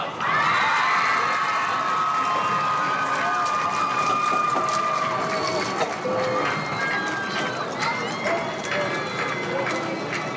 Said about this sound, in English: How about a big round of applause for all of these amazing young ladies and gentlemen